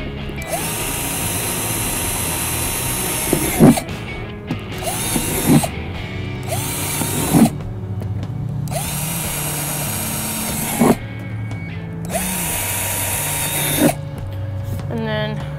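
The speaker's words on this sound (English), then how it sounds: "going to drill holes into the bottom of" A power drill bores holes into the bottom of a plastic bucket for a homemade worm compost bin, giving about six loud, whirring bursts of a few seconds each, separated by short pauses and clicks.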